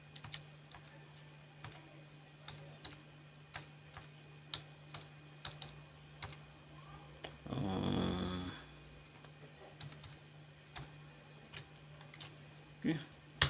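Scattered, sparse keystrokes on an external keyboard plugged into an Acer laptop tap out irregularly over a steady low hum, with a brief burst of speech or vocal noise midway.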